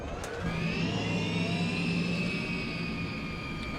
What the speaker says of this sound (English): that helicopter startup sound